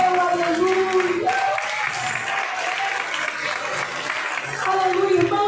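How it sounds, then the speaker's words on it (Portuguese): A church congregation applauds steadily in a sustained wash of clapping, with cheering voices and a sung or shouted tone rising above it. "Você pode aplaudi-lo nessa noite."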